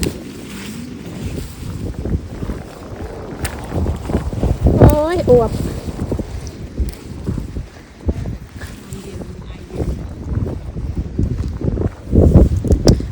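Wind gusts roar steadily across the microphone outdoors in Norway while someone talks over it, the buffeting rising and falling throughout and swelling strongly near the end.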